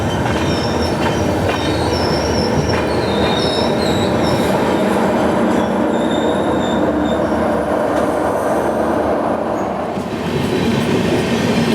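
The Secunderabad Tirupati Express rolls along the rails with a steady loud rumble, rhythmic clatter and high wheel squeals recurring throughout, heard from on board.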